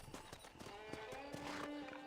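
Horse hooves clopping in the Red Dead Redemption video game, a quick irregular series of close, crisp hoof knocks over a low tonal hum.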